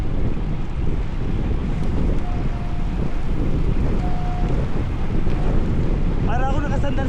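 A strong crosswind roars over a moving motorcycle, a steady, heavy rumble of wind buffeting the microphone for the whole ride, with faint tonal whistles and a brief chirping sound near the end.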